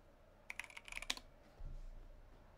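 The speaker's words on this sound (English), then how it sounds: "Let's do a few typing tests." Rapid clacking keystrokes on a Jupiter 75 Bluetooth USB-C mechanical keyboard sitting on thick desk mats, a close burst of crisp taps followed by a softer low thud.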